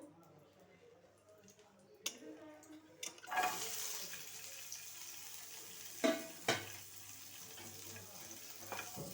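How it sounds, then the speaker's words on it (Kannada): Capsicum frying in a pan over low flame gives a steady close sizzle, broken by a sudden louder hiss as the pieces go in and a few sharp clatters of stirring. "ಕ್ಯಾಪ್ಸಿಕಮ್ ಹಾಕ್ಕೊಂಡು ಹುರ್ಕೋಬೇಕು"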